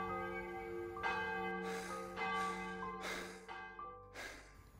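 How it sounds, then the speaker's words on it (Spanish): A church bell tolls at night with a sustained, ringing tone, and several loud strikes follow one another at a slow, even pace. Soft breathing and gasps can be heard faintly underneath. "nueve sonoras campanadas estremecían la noche"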